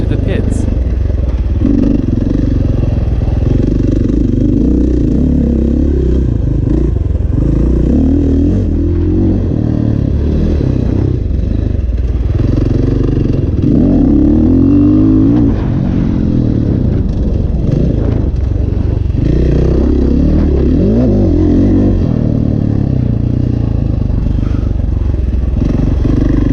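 A KTM enduro motorcycle ridden around an enduro track, its engine droning steadily throughout with rising and falling revs and rattling clatter, loud and close as if recorded from the bike itself.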